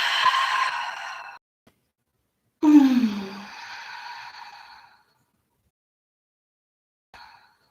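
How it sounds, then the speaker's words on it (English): Deep breaths during a yoga session: a long breathy exhale fades out, then a louder sighing inhale and exhale trail off, followed by a faint brief breath near the end, close and alone. "Let's take a few more deep breaths."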